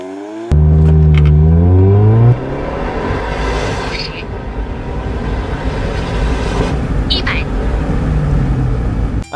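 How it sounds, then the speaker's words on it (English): A supercharged 2018 Mazda MX-5 ND roadster accelerates hard from a standstill, its engine note climbing steadily through the revs, then settling into a sustained loud drone with whine and road roar as the run continues. "Now let's see the performance of the"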